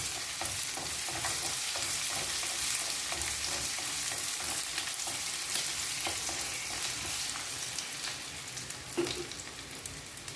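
Ingredients frying and being stirred in a pan while Bengali shrimp, fig and potato curry is cooked: a constant bright sizzle with scattered scraping and clicking from stirring, close and fairly soft, with no talk.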